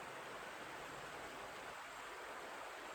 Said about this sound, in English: It's the noisy river.